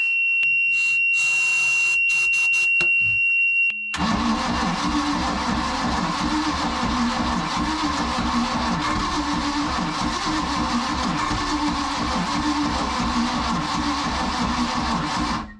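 A 454 big block boat engine cranks after a brief high electronic tone, then a steady, loud mechanical churning runs on for about twelve seconds without clearly catching, no voices heard.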